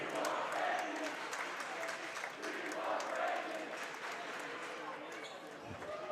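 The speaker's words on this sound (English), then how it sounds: "Abe's cheering section is urging on their guys." A student section cheers and roars during a high school boys basketball game in a gym, a continuous crowd din with shouts, some clapping and a faint announcer voice.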